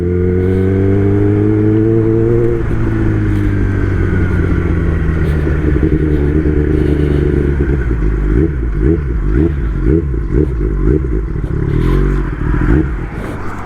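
Kawasaki ZX10R sport bike ridden over gravel, its engine droning loud and steady as it pulls through the gears, with a gear change near the start and rough, pulsing crunches from the loose surface later on.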